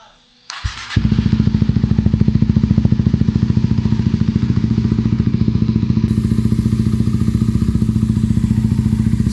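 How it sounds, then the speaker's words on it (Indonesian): A motorcycle with an aftermarket Trioval exhaust starts after a brief clatter and settles into a loud, steady idle with a rapid, even pulsing exhaust beat, close by. "langsung saja ke suara dari knalpot"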